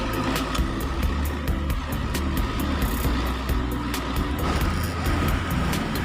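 A Honda PCX scooter engine, Thai-spec with a freshly serviced CVT, runs steadily close by, a continuous even drone with a regular ticking rhythm throughout.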